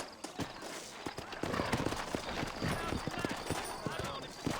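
Horse hooves clip-clop at a steady ride pace in the Red Dead Redemption video game, the rhythmic hoofbeats sitting close and clear under game music and ambience, with a voice speaking over them.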